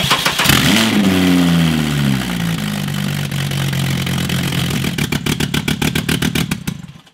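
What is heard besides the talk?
car engine starting and running without exhaust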